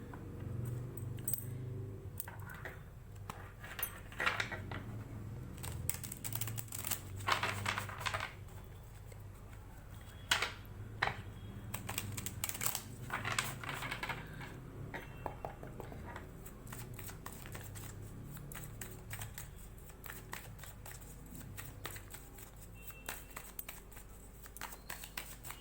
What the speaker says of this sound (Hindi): जब तक मैं शफलिंग कर रही हूँ गाइज,